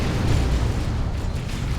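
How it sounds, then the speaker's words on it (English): A defensive smoke shell from Catachan troops pops in a Dawn of War 2 3v3 battle, a dense low boom spreading into a steady rumble of battlefield noise with no single sharp crack. "Defensive smoke shell popped up by the Catechins there"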